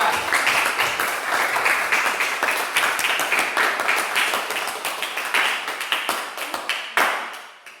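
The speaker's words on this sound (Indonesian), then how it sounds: "beri tepuk tangan untuk kelompok 3" A classroom applauding a student group after their presentation, close and lively hand clapping with uneven individual claps, fairly loud and continuous before tapering with a final burst.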